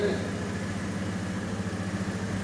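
A warmed-up car engine idles steadily with its hood open, a close, even low rumble holding for a couple of seconds with no talk over it.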